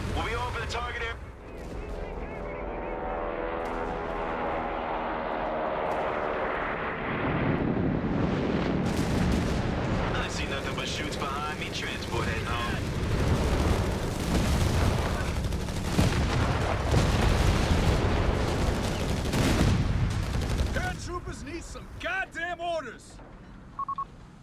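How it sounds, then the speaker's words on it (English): Battle din from Company of Heroes 3 on an Italian beach landing map: artillery booms and rattling gunfire pile up into a loud, dense barrage, with shouted radio voices and orders over the noise. "Fire at will!"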